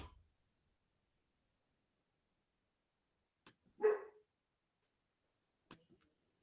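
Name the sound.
dog barking at the neighbor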